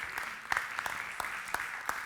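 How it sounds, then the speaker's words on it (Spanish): Scattered audience applause at a talk on reading habits and comprehension, a steady patter of many hands with a few sharper, louder claps standing out over two seconds. "yo creo que eso merece un aplauso"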